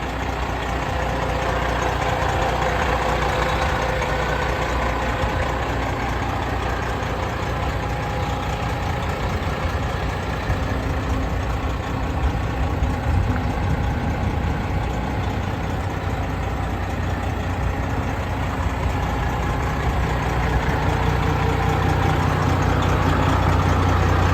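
A 2015 Peterbilt 389 glider kit daycab truck idles steadily with a deep, rumbling diesel drone and a faint knocking texture, constant and close for the whole stretch.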